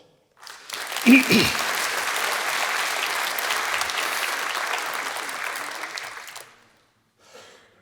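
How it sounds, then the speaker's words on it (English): Audience applause at the EENA 2023 opening ceremony, a dense, loud burst of clapping that swells in quickly, holds steady for about six seconds, then fades out, with a brief voice at the very end. "I would like another round of applause."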